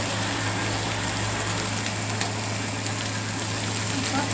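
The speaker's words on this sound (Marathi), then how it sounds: "थोडासा असा कलर चेंज झाला ना लसणाचा त्याच्यामध्ये असा कांदा टाकायचा" Onion tossed into hot oil with garlic in a pan, giving a steady, dense sizzle and crackle that runs evenly throughout, close and continuous with no break.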